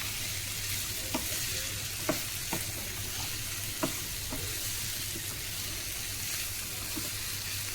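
Ginger and garlic dry-frying in a pan with no oil for a pork dish, giving a steady, soft sizzle with a few sharp clicks and taps of stirring, moderately quiet throughout.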